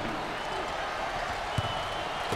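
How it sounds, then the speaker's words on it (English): Basketball arena crowd at an NCAA tournament game between Grambling State and Utah State, a loud continuous roar with clapping mixed in, and commentators talking over it. "you get the home court advantage when you got a crowd like this"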